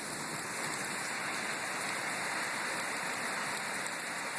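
Heavy monsoon rain pours down steadily in Henderson, Nevada, a dense hiss of drops hitting surfaces close by, with no voices.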